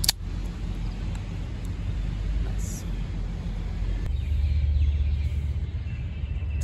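A large vehicle rumbles past nearby with a low engine roar that swells and fades, a brief hiss partway through.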